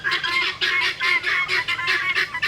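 Turkeys and other farm birds call together around a tree, a rapid string of loud, close, honking cries repeated in quick bursts.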